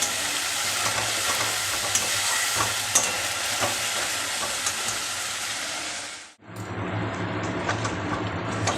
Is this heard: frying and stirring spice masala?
yes